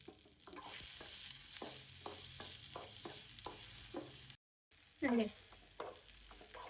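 Okra with turmeric frying in a pan, a steady sizzle broken by repeated stirring scrapes, with one brief dropout and a sharper burst of sizzle after it.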